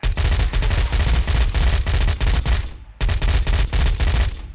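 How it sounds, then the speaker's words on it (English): Rifle gunfire from the video game Fallout New Vegas cracks out in loud, close, rapid bursts. The volleys run continuously, break off briefly near the three-second mark, then resume at the same intensity. "his rifle noise was so in my ear"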